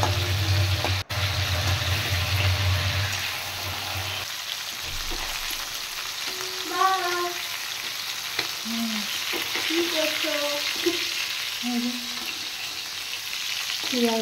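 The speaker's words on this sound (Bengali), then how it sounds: "তাহলে মাছগুলো আর ভেজে নেই" Sardines sizzle and fry steadily in a hot pan, a continuous loud crackle with occasional stirring and clinks, no talking.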